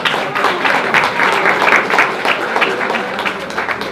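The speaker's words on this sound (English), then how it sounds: "round of applause for her" An audience at a university screening event in Ghana claps in sustained applause, a dense, even wash of hand claps lasting throughout, fairly loud and close.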